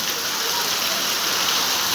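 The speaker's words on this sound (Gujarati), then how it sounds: "જો ધોધમાર વરસાદ જો મિત્ર" Heavy rain pours down steadily on Rai village in Chotila taluka, Surendranagar, making a loud, unbroken hiss of water on surfaces with no break in intensity.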